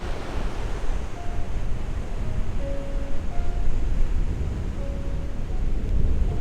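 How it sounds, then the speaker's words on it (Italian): Strong wind buffets the microphone in a loud, continuous rushing roar with gusty surges, and faint tonal whistles come and go. "spero che sentiate quello che vi dico visto che c'è molto vento."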